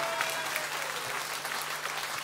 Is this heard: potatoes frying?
no